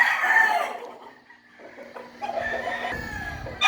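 A chicken being prepared for fighting crows loudly, then gives a few softer clucks, close by and without talk.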